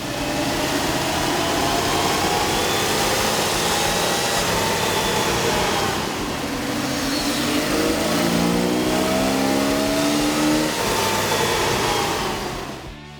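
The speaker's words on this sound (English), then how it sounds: "With the air intake installed, we ran the vehicle on the dyno to test the sound comparison versus the stock intake" A 1997 Jeep Wrangler 4.0-liter engine fitted with an aftermarket air intake runs on a dyno, a loud, steady drone with rising and falling rev sweeps and intake roar throughout, no voices.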